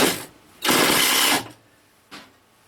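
A power drill drives screws to mount a shelf for a 20-pound power inverter in an off-grid tiny house, with a short whir, a longer loud steady burst, and a final brief spin, close and alone.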